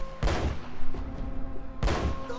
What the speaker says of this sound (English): that was a really good blind fire